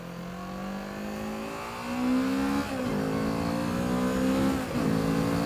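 A Kawasaki Z650 parallel-twin motorcycle accelerates hard through the gears, its engine note climbing steadily then dipping briefly at two shifts, heard from the rider's position with wind rush and no talking.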